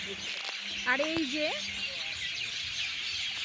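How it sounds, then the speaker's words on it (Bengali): Several birds chirp and call at once in a dense, bright chorus, steady and somewhat distant, while a person speaks briefly. "দেখো তোমরা কত পাখি ডাকছে"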